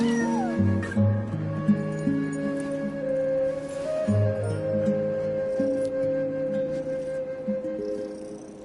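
A pet cat called Ashru, sitting on a counter, meows repeatedly in loud, drawn-out, wailing calls close to the listener, one cry after another with little pause.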